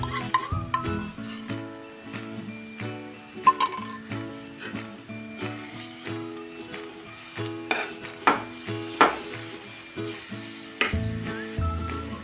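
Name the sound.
stirring gram flour pithla in a pan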